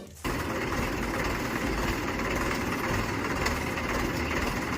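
A Mahindra Bhumiputra 475 DI tractor engine idles nearby with a steady, unbroken rumbling chug that holds an even level throughout.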